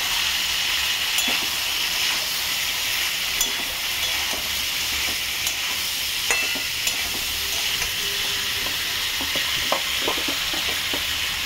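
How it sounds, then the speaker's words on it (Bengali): Spices and sugar fry in a hot pan while being stirred, giving a steady loud sizzle and hiss with occasional clinks and scrapes of the spoon against the pan. "এটাকে নাড়াচাড়া করবো।"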